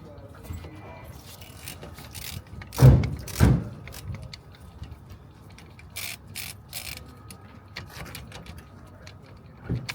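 Brake caliper bolts being undone anti-clockwise on a car: a sharp metallic double clack up close, followed by scattered light ratcheting clicks and scrapes in a quiet workspace.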